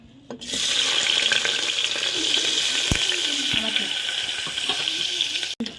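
Chopped shallots hit hot oil left over from frying samosas, bringing a sudden, steady hiss and sizzle that holds close and fairly loud, with occasional soft knocks of stirring.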